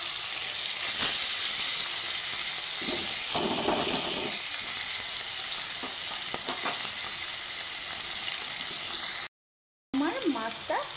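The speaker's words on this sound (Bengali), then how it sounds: "মাছটাকে আমি একটু কড়া করে লাল করে ভাজবো" Bata fish fries crisp and red in a hot pan, giving a steady, close sizzle that runs nearly throughout, with a few louder crackles. There is a brief gap near the end, then soft voice-like sounds.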